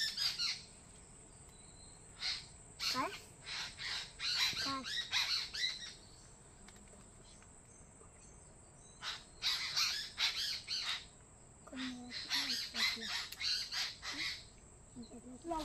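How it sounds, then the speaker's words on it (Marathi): Crows caw in bursts of harsh, repeated calls outdoors in a Konkan village, with other birds calling around them and brief quiet gaps between the flurries. "पक्ष्यांचा आवाज बघा किती"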